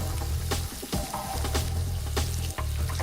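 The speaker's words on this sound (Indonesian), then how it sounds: "Terus selagi dia menumis" Mixed vegetables stir-fried in a hot pan sizzle loudly and steadily, with scraping spatula strokes and brief clatters breaking through the continuous frying hiss.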